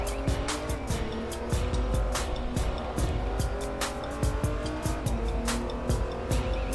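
A street-tuned Lexus IS 350 in the Forza racing game drives hard with a steady engine drone and repeated tire squeals as it slides through corners.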